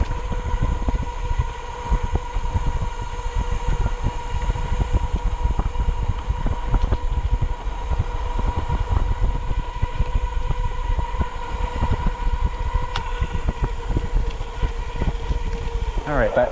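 Electric bike motor running on throttle only at about 20 mph on a greenbelt trail, a steady whine with constant wind and road rumble throughout, close and continuous, with no talking.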